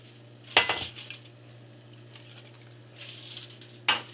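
A steak burrito set down on a metal sheet pan, giving two or three close rattling clanks of the pan separated by quieter handling noise.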